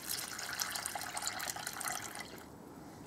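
Water pouring into an MRE drink powder pouch makes a steady close-up splashing and trickling pour lasting a few seconds, tapering off near the end with no talking.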